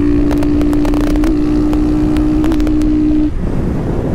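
A motorcycle engine revs loudly and steadily close by, holding one droning pitch before the rider shifts gear and the tone drops away, with wind rushing over the microphone throughout.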